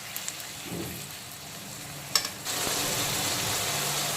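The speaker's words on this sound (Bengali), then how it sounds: "এখন আবারও বেশ কিছুক্ষণ 3-4 মিনিট সময় নিয়ে পেঁয়াজ টমেটো আর কাঁচা লঙ্কাটাকে আবারও ভেজে নেব" Onion, tomato and green chili fry in a pan for a spicy soyabean curry with parwal and potato, a steady close sizzle that swells louder in the second half, with a brief clank partway through.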